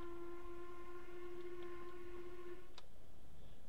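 A long, steady blast from the steam whistle of an 8F locomotive in Train Simulator 2014 holds a clear tone for about two and a half seconds, then cuts off sharply, leaving quiet hiss.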